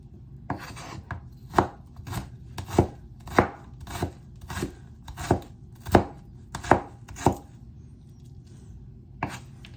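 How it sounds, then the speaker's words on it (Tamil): A large onion is chopped into small pieces, producing about a dozen crisp, close knife chops in a loose, uneven rhythm with quiet pauses between. "நல்ல பெரிய வெங்காயம் சின்ன சின்னனா வெட்டி கொள்கிறேன்"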